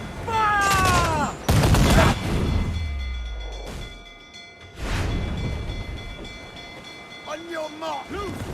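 Ship cannons in the pirate video game Assassin's Creed Black Flag boom in loud, broadband blasts with lingering low rumble, spaced apart among shouted crew voices and other battle sounds.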